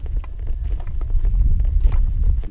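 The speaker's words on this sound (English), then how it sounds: "It's been quite windy in here." Wind gusts and buffets the microphone at a canyon campsite, a steady low roar with rustling bursts throughout.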